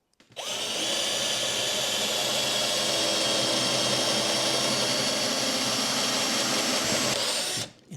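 A loud power drill with a pocket-hole bit runs continuously for about seven seconds at a steady high whine, close up, starting and stopping abruptly.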